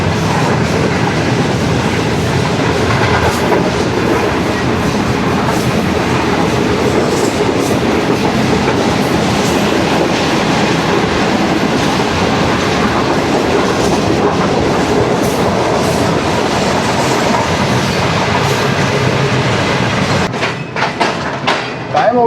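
The 28 Down Shalimar Express races along at high speed, a loud, steady roar of wheels and rail with faint clickety-clack running nonstop from start to finish, heard close by.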